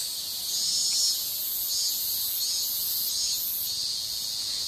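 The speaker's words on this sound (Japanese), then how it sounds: "セミが鳴ってきましたね。" Cicadas in Japan sing in a loud, continuous high-pitched buzzing drone that swells and wavers slightly, heard alone without talk.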